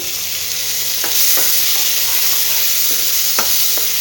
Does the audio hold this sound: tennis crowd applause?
no